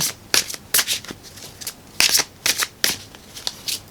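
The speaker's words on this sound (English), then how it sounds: "And then let me just shuffle" Tarot cards being shuffled in quick riffling bursts, crisp papery rustles repeating several times, close up with no talking.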